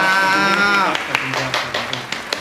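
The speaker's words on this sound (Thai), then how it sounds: "ขอเสียงปรบมือกับเจ้านายหน่อยค่ะ" Brief, scattered handclaps for the boss on a casual talk show: a voice is followed by a handful of separate, sharp claps spaced irregularly, close and fairly loud.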